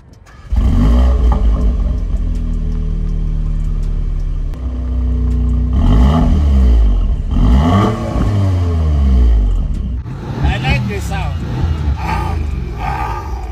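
A 2023 Audi S3 exhaust with real tailpipes roars up and down through several loud, close revs, with engine pitch sweeping and dropping between bursts.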